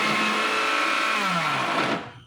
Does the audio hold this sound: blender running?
yes